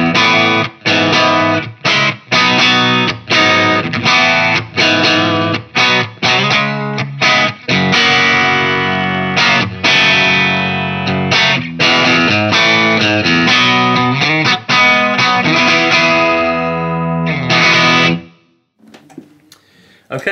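Electric guitar played through a Dr Z Maz amplifier on its low input with the gain lowered, giving a clean-to-breakup tone; strummed chords and picked notes ring steadily and loud up close, then stop and decay near the end.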